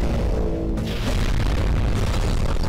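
A bomb goes off in a Skibidi Toilet animation, a dense, roaring blast of broadband noise that stays loud and rumbling without pause for the whole stretch, with no voices over it.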